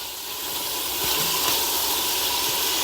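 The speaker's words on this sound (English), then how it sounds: "The meat is starting to sear well." Beef pieces sear in a hot Instant Pot, giving a steady, loud sizzling hiss that swells slightly and holds evenly, with no talking.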